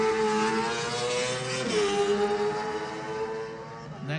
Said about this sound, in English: the revs go up. 1, flag drops, away we go.